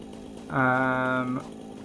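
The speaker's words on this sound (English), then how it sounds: "if I use the chainsaw on it, it actually clears out everything in a radius" A chainsaw in the video game Satisfactory clears bushes, giving one steady buzzing whine of just under a second that starts and stops abruptly, loud against a quiet background.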